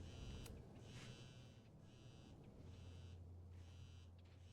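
A mobile phone buzzes in Life is Strange Double Exposure, giving repeated vibrating pulses in a steady rhythm over a low, constant background hum, with no voices.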